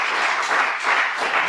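Brief burst of congregation applause in a church, many hands clapping together in a dense, swelling wave.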